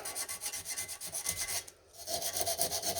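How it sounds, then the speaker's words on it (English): Emery cloth scrapes back and forth across a corroded battery terminal on an 08 Pontiac Torrent, giving a quick, steady rhythmic rasping, close and fairly quiet, with a short pause partway through. "And you can sand it down."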